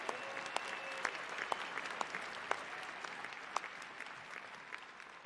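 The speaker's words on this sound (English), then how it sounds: "give yourselves a round of applause" Conference attendees at NSGC 2019 give themselves a round of applause, a broad, soft wash of many hands from across a large hall, with a few sharper claps standing out nearby.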